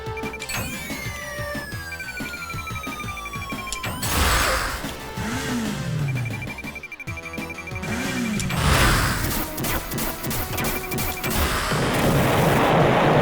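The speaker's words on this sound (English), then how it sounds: "those explosions may be a little more than we need" Video game explosions from Rocket Knight Adventures: Sparkster Reignited, several loud bursting blasts over steady game music and effects, with a heavy rumbling boom around the middle.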